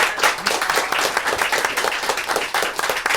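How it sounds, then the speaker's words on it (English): Steady applause and clapping from an audience at a live gaming cafe show, a dense crowd patter that holds for a few seconds with no voices on top. "Let's give Nahaz another round of applause for coming around."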